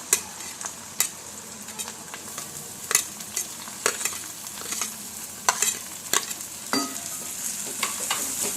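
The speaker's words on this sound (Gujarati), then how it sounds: "હવે હું એમાં ડુંગળી ઉમેરીશ।" Onion sautéing in a pan for Rajasthani dal, a steady sizzle broken by repeated sharp scrapes and clinks of a spoon stirring, close and clear with no talking.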